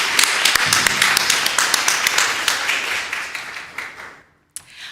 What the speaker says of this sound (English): Let's have a round of applause for the dads